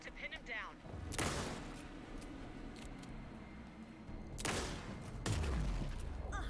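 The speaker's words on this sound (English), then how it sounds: "Shoot him to pin him down." Gunfire in the video game Alan Wake II: several loud, sharp shots spaced a few seconds apart, each with a short ringing tail, over a rumbling game background with talk in between.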